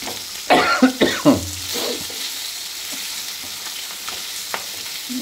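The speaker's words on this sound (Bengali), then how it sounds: "এই সেন্টের জন্য আমার কাশি পাচ্ছে" A few sharp coughs and a throat clear ring out near the start while fish and spices fry in oil, a soft sizzle continuing underneath after the coughing fades.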